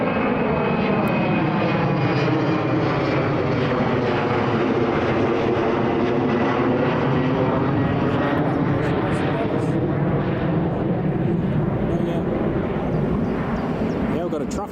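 A Jet2 airliner pushes back at Newcastle Airport, its engines giving a loud, steady roar with a rising whine that fills the whole stretch, while people talk over it.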